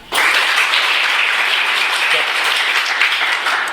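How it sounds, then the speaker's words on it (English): An audience of students claps together, a dense burst of many hands that starts sharply and carries on steadily for several seconds, loud and close. "Just clap once."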